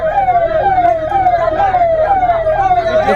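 Fire engine siren arriving at a village fire, a loud, close wailing tone repeating in steady falling sweeps over a low engine rumble.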